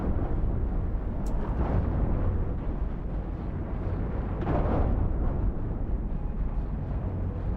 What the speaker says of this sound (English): And you see, notice how deck cannons do pushback damage too.